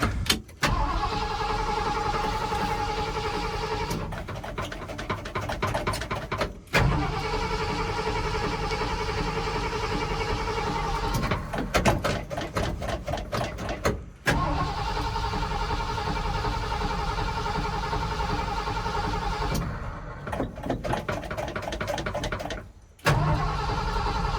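An old car in a body shop with a transmission problem, its starter cranking in long repeated bursts with brief pauses between attempts, loud and close, with no voices.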